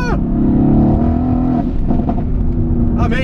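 A Mercedes-AMG car accelerates hard, its engine note rising loudly and steadily from inside the cabin, with the drone continuing at full volume throughout.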